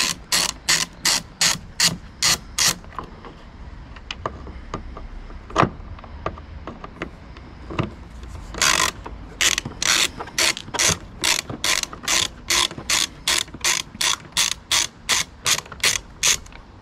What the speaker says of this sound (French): Donc là vous dévissez les deux vis tout simplement.